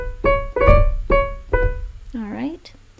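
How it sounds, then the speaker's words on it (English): A short melodic phrase played with grace notes: four distinct tonal notes, each preceded by a quick ornamental note, played clearly and moderately loud, followed by a brief wavering voice-like sound at the end. "let me go back and play these grace notes."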